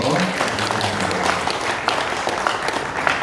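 A congregation at a church mission board general assembly breaks into loud, steady applause, many hands clapping together without pause.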